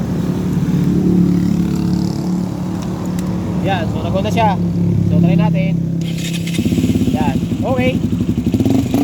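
A motorcycle engine running after a fuse replacement, a steady close idle with rhythmic pulsing that rises into revving toward the end, while someone talks over it.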